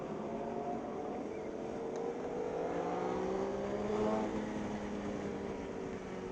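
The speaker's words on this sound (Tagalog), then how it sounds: "Tricycle on the right, tricycle on the right." A motorized tricycle passes on the right on an uphill road. A steady engine drone and whine rises and then falls in pitch as it goes by, set against constant road and wind rush.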